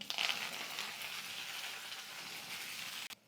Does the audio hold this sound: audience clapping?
no